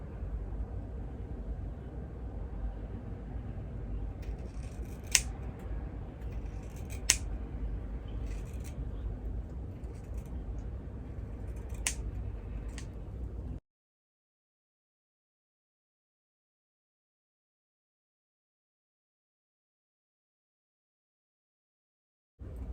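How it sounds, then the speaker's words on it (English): Scissors snip through hair during an at-home DIY haircut, a steady close scraping rustle with a few sharper clicks of the blades, running for about thirteen seconds before falling silent. "so I'll cut it this way."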